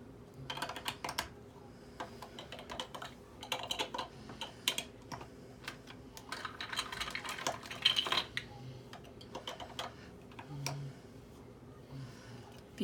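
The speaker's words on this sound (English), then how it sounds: "If you hear that noise in the background, that is my son playing with Legos." A young child plays with Legos in the background, the plastic bricks clicking, rattling and clattering in irregular bursts, faint and somewhat distant, with soft room noise between the bursts.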